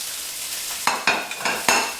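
Onion, garlic and peppers fry in a pan with a little oil, a steady soft sizzle broken by four or five sharp scraping stirs of a utensil, close and clear with no talking.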